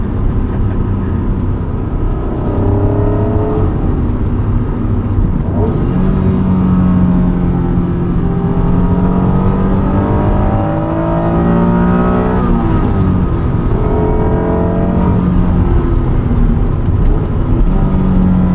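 A 1996 Acura NSX-T with a 5-speed manual pulls hard in second gear, its engine droning loudly and climbing in pitch, easing off, then rising again in a continuous close in-cabin roar.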